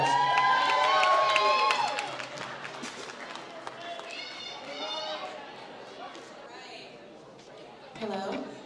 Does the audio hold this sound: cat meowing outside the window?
no